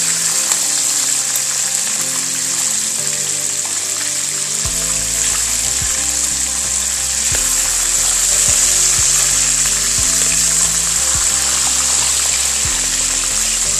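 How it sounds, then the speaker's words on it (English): Bangus (milkfish) fries in a pan with a dense, steady sizzle and hiss that runs continuously and loudly throughout, with a low throbbing underneath. "you have to fry the bangus."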